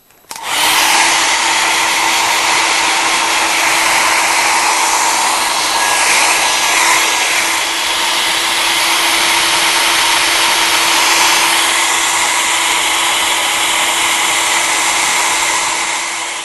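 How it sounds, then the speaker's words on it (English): A hair dryer blows steadily, loud and close, drying a watercolour painting of thatched cottage scenes, with an unbroken whooshing drone that runs for the whole stretch and no talk. "I'm going to start to dry this painting now so that we can move it on."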